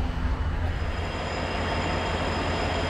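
A train on the line near the Hoosac Tunnel, heard as a steady, close, broadband rumble that runs unbroken the whole time with no horn.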